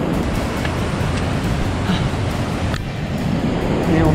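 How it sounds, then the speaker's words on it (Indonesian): Ocean waves breaking on a shallow coral reef shore, a steady loud wash of surf with wind buffeting the microphone throughout. "Ini ombaknya makin gede aja nih bro."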